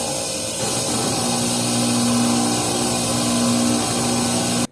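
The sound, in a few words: salvaged bench grinder motor running, contact points, no capacitor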